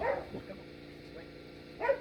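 Dogs bark outdoors at a busy scent-work training session, with a couple of short faint yips or barks at the start and again near the end against a quiet background.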